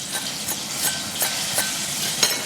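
Cuban food frying in a pan gives off a loud, steady sizzle and hiss, broken by regular crackling pops at an even pace.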